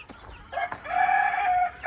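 An Easter egger rooster, a laughing chicken breed, gives a short crow on an off-grid farm, a brief close call rising after a few clucks and ending within about two seconds.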